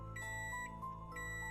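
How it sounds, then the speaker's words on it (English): A microwave oven gives a faint, repeated series of short electronic beeps, quiet and somewhat distant, with no talking. "Why is my microwave ringing?"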